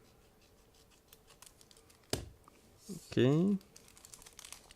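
Close crinkling of a plastic bag from a 1/35 scale IBG Models truck kit, with a sharp snip and rustling as it is cut and opened, while a voice speaks briefly.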